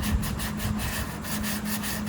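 Sandpaper rubs back and forth over soft pine wood in rapid, even strokes, a close and continuous rasping scrape with no talk.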